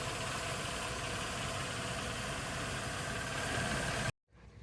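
Truck engine idling steadily with the AC running, a continuous close mechanical rumble and hum that cuts off abruptly near the end.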